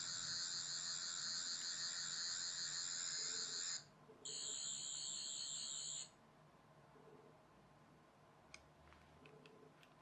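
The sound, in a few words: Doctor Who 12th Doctor toy sonic screwdriver sound effect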